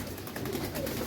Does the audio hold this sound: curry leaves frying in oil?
no